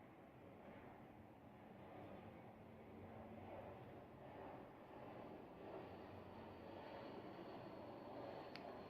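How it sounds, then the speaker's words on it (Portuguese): An airplane passes overhead, a faint, distant broad rumbling roar that swells slowly and holds steady throughout. "É foda essa porra desse avião."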